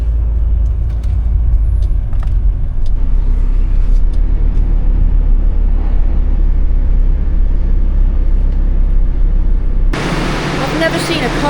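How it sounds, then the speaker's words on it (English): A car rolls up a boat ramp onto a ferry, giving a steady low rumble of engine and road noise with faint knocks and clunks, and a sudden shift to a brighter hollow din near the end as it enters the car deck. "here we go, going up onto the boat ramp"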